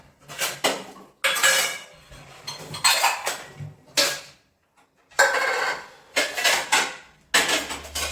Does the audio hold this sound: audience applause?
no